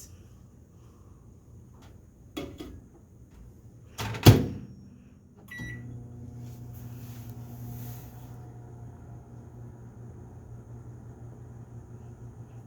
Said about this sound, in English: And now I'm going to put them in the microwave for 1 minute.